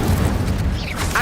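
The Incendio fire spell is cast in Hogwarts Legacy, a loud, dense burst of roaring, crackling flame that fills the whole moment.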